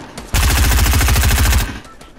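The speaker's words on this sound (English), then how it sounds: "Aaron's shooting at the guys north" Rapid automatic gunfire in a first-person shooter, a loud sustained burst of evenly spaced shots lasting over a second, close up, with quieter shots before and after and no talk.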